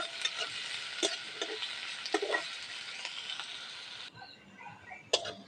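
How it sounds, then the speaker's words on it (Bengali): Spice paste frying lightly in a pan for fish paturi, a continuous crackling sizzle with scattered ticks and stirring scrapes, cutting to a quieter sizzle with a sharp clack near the end. "মশলাটাকে ভেজে নিয়েছি, এবার নামিয়ে নেবো।"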